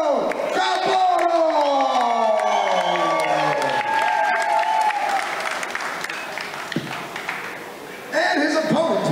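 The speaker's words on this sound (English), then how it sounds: "a round of applause for Andrew Capurro!" A fight-night crowd at a Muay Thai event in Phuket breaks into sustained applause and cheers for a fighter as an announcer's voice rings out over the arena, with the noise continuing at full strength.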